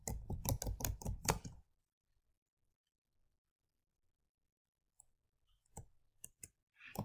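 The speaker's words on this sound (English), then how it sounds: "we're typing a new title" Rapid bursts of typing on a computer keyboard while entering a title in Microsoft Word 2019, a quick flurry of keystrokes, then near silence, followed by a few scattered clicks toward the end.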